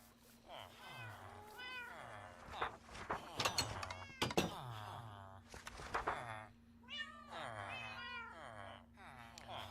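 Several cats meowing in the Minecraft video game, repeated rising and falling meows overlapping at an irregular pace, with a few sharp clicks and thumps in between.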